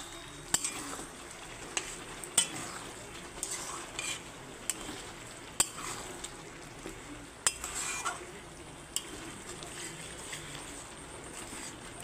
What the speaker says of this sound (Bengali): এবারে ঢাকা দিয়ে দিয়ে আমি কষিয়ে নেব ভালো করে।